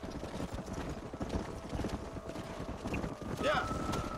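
Horse hooves clop in steady galloping rhythm in the video game Red Dead Redemption, a continuous moderate drumming with a brief whinny-like cry near the end.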